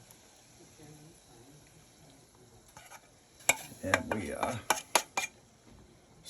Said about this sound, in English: And we stir and we mix and dig it off the bottom